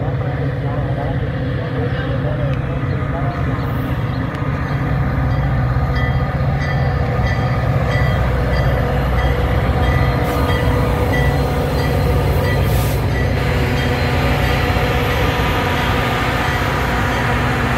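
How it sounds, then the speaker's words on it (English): A Union Pacific commuter train rumbles steadily into a station in Geneva, Illinois, a loud continuous rolling drone with faint squeals and metallic tones above it. "The last train number 33 to Auburn is now arriving."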